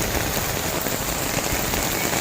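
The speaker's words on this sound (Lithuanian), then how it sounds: "bet šiltas lietus, smagu visą" Warm rain falls steadily on surfaces along the Kathmandu–Pokhara road in Nepal, a dense, even patter that fills the scene at a constant loudness with no voices.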